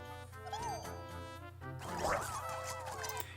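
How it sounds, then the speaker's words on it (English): A Grub Dog enemy fighting Ice Pikmin in the video game Pikmin 4, with yipping, whimpering creature cries and short chirps over a sustained musical background, growing busier and louder in the second half. "And here we have Ice Pikmin fighting a Grub Dog."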